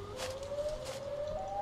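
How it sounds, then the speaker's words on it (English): The Siren Head monster from the horror game Siren Head lets out a siren wail, a single sustained tone slowly rising in pitch over low background rumble, alone and moderately loud. "Basically, it's the Siren Head."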